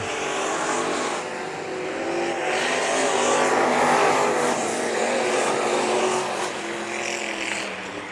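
Sport Mod race cars roar around the dirt oval at Bakersfield Speedway during a heat race, a loud sustained engine drone that swells as the pack passes and then eases slightly, with no talk over it.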